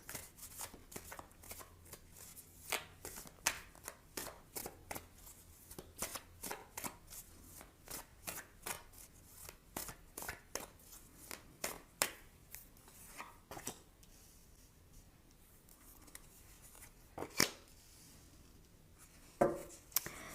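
Tarot cards being shuffled by hand make a long series of soft, quick riffling and snapping bursts that come close and irregular, with a few sharper taps near the end.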